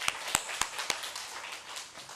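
During a Thursday daytime church service, a congregation claps in a few sharp, separate handclaps over a soft hiss of room noise, with no voices.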